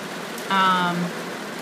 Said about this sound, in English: it's just pouring down rain